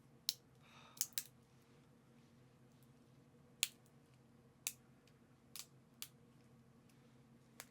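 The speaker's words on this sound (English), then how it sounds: "Shall I cut a glow stick?" Scissors snipping at a glow stick during a craft unboxing: a handful of sharp, isolated clicks and snaps spread unevenly over several seconds, close and crisp against a quiet room.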